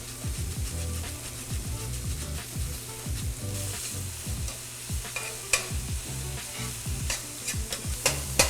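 Beet greens with grated raw beet cooking in a pan, a soft close sizzle with repeated scraping and stirring strokes and occasional clinks, with background music underneath.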